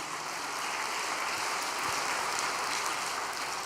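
A church congregation at a revival service applauds in thanks to its elder pastors, a steady, even wash of clapping that holds at one level throughout with no voices standing out.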